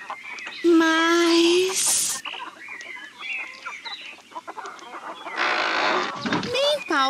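A rooster clucks and crows on a farm in the 1999 children's CD-ROM game Oscar the Balloonist, with sustained calls up close alongside other farm birds; a voice speaks briefly.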